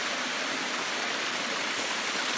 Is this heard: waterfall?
yes